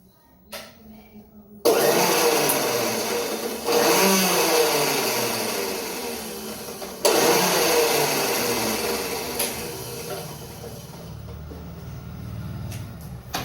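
Kitchen mixer grinder blending red chilli Schezwan chutney with pickle masala, whirring in loud bursts that start abruptly, ease off and restart, with quieter gaps between runs.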